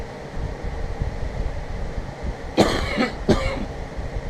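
Two harsh coughs in quick succession, close to the microphone, over a steady windy background rumble.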